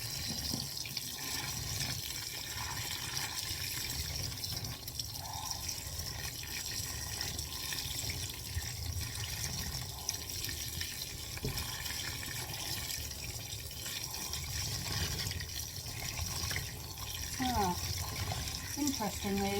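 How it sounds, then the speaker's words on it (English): Cold tap water running steadily into a sink while dyed fabric is rinsed, a continuous close wash of splashing flow that holds at an even level throughout, with a few small clinks near the end. "Right, I'm going to rinse this on cold."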